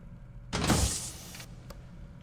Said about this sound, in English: I'm closing the door immediately.